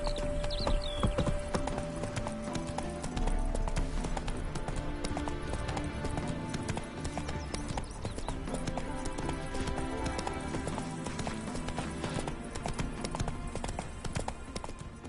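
Roach, Geralt's horse in The Witcher 3: Wild Hunt, gallops in a rapid, steady clip-clop of hooves that carries on for the whole stretch, with a brief whinny near the start and game ambience underneath.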